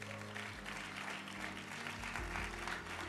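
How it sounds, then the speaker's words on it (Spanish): A church congregation claps steadily through a short stretch, the applause faint and even, blended with sustained musical tones underneath. "Alguien dice amén y da un fuerte aplauso al Señor"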